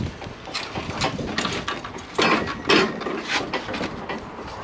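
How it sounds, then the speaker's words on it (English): An angle grinder cuts through heavy steel beside brickwork during a utility repair, giving a rough, surging mechanical roar close by that swells and dips as the blade bites. "Just make sure you don't push on the grinder, just let the grinder do the work"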